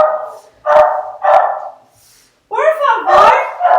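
A dog barking repeatedly and loudly at home during an online class, sharp close barks followed by higher whiny yelping calls, dominating the sound with little else around.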